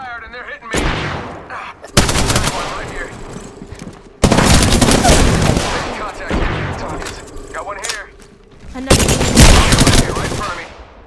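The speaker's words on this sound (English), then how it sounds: "shots fired and they're hitting me" Gunfire in Apex Legends: several loud bursts of rapid automatic fire come in separate volleys with sharp onsets and decaying tails, mixed with game effects and a voice speaking between shots.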